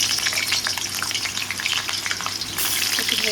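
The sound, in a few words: potatoes frying in hot oil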